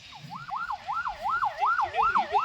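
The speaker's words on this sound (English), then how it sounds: "the ambulance departs with the emergency doctors, trained EMT technician and a nurse carrying essential trauma equipment" An ambulance siren wails in a steady rising-and-falling cycle about twice a second as the ambulance pulls away with its medical crew, loud and close over low background rumble, with no talk.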